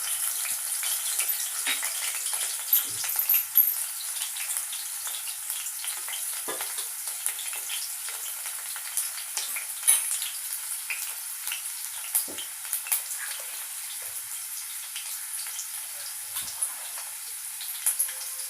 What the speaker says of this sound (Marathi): तर लसूण टाकून घेऊया